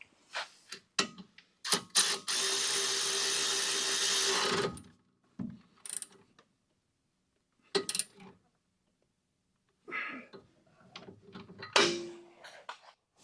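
Bolts on a Jeep Cherokee XJ front brake assembly are tightened with a tool in short separate bursts of whirring and clicking, including one longer run of a few seconds, with quiet gaps between.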